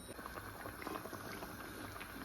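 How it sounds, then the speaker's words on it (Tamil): A pot of okra curry, vendakkai kuzhambu, simmers steadily with a soft, continuous bubbling hiss, faint and even throughout with no voices. "இன்னும் கொஞ்சம் கொதித்து வற்றி வரட்டும்"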